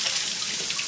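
Water runs in a steady, hissing rush into a bathtub, close and continuous with no voices over it.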